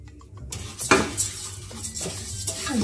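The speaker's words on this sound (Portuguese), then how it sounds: "eu vou colocar o arroz e vou deixar ele fritar um pouquinho" Rice frying in hot oil in a pan on a stove, a soft sizzle with a metal spoon scraping and clinking against the pan as it is stirred, close and moderately loud.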